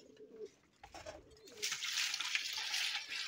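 A racing pigeon bathes alone. Soft cooing comes first, then a burst of faint splashing and fluttering in water.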